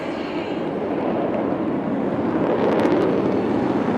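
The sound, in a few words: Indian Air Force aircraft pulling up vertically at air show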